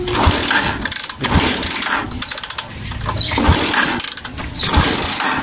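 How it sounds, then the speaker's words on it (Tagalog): Repeated kick-starting of a Euro 125 motorcycle that won't start, with several heavy mechanical thumps and brief sputtering engine bursts that never catch, close and fairly loud. "nakailan tadyak na pero ayaw pa rin umandar"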